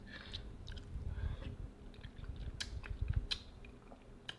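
Vegan Hamburger Helper being chewed during a taste test, with soft, close mouth sounds and a few moist crunches and bites, quiet and without talk.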